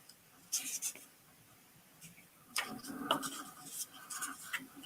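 A paper Rocket Mouse template being folded along its dotted line, with soft crinkling and rubbing in two short bursts of handling, close and quiet, with faint breathy voice sounds nearby.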